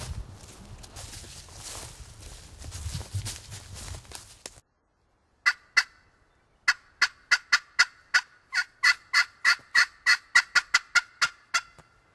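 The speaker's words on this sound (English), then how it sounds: "Here, I just heard one gobble." A wild turkey gobbles in the woods during a youth turkey hunt in Pennsylvania, preceded by rustling; then a long rapid series of sharp, evenly spaced clucking notes follows, fairly near and clear.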